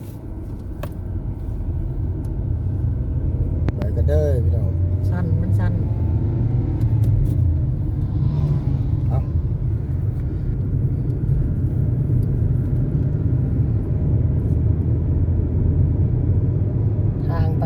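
A car drives along a road on the route from Xeno to Savannakhet, with a steady low engine and road rumble throughout and people talking now and then over it.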